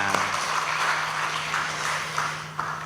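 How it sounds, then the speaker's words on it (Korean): Church congregation clapping in praise at a Sunday worship service, a steady broadband patter of many hands in a reverberant sanctuary with a low organ or keyboard note sustained underneath. "영광의 박수 올려드립니다"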